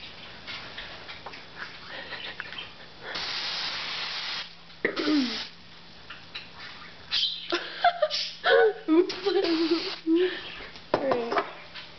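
A spray can or bottle hisses in a broad steady burst in the middle of a breakfast kitchen, with clicks and excited talk and laughter before and after.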